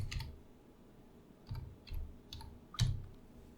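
Several separate clicky taps on a computer keyboard, spaced out and fairly quiet, each with a soft low thump, in an otherwise quiet room.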